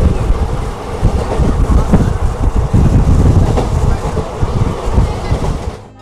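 Maa Tara Express from Sealdah to Tarapith running past Shaktigarh station, heard from aboard as a loud continuous rumble of wheels and rattling carriages mixed with heavy wind buffeting, fading slightly at the end.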